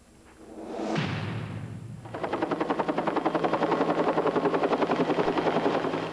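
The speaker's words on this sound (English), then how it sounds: "This helicopter is dropping a new kind of fire retardant called Barricade." A helicopter dropping Barricade fire-retardant gel over a wildfire area: a whooshing pass builds, then a loud, steady rotor chop thumps rapidly and evenly, close by.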